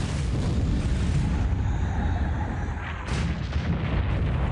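In a naval video game, the warship Kongo takes gunfire hits and explosions as a loud, dense, continuous roar of booming blasts that barely lets up and carries no voices.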